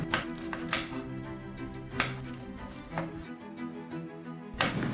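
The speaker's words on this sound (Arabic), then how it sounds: "أيضا قطعت البصل دوائر والفلفل دوائر." Knife chopping vegetables such as onion and pepper into rounds on a cutting board, a series of crisp, evenly spaced close chops with no talking.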